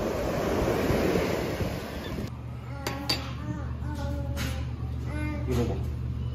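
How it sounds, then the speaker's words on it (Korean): Ocean waves break on the shore at Sokcho, a loud rushing roar for the first couple of seconds, then a softer wash of surf underneath excited voices talking. "우와, 파도"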